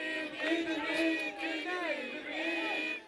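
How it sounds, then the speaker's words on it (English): A crowd in Aleppo, Syria, chants original lyrics to the tune of Jingle Bells, many voices in rhythmic unison, moderately distant with a slight echo, rising and falling across repeated phrases. "To the tune of Jingle Bells, a chant in Aleppo with original lyrics."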